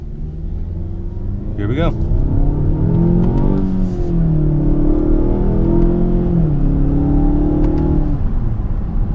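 A 2018 Mazda 6 Turbo pulls hard in manual mode with traction control switched off, its engine note rising steadily and staying loud for several seconds while someone speaks briefly over it.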